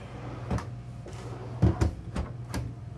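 Soft-close drawers in a 2024 Newmar Bay Star 3014 RV being pulled open and eased shut, about five or six soft thumps and slides over three seconds, close by, with no talking.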